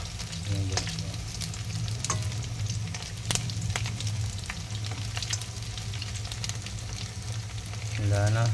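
Meatballs (bola-bola) fry in a worn Teflon pan, a dense steady sizzle and crackle with occasional scrapes and stirring clinks, close and continuous, with faint voices at the start and end.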